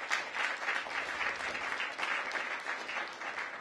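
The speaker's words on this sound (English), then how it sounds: "Give them a big round of applause" Applause at a mayoral swearing-in ceremony for members of an emergency medical advisory committee, a full, steady round of clapping from a sizeable crowd that carries evenly through the whole stretch with no voices over it.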